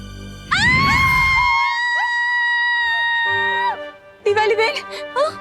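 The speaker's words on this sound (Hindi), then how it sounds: "क्यों चिल्ला रही हैं आप?" A woman lets out a loud, long, sustained scream at close range in a Hindi fantasy TV drama, with a warbling high pitch, a short break and then a brief second outburst.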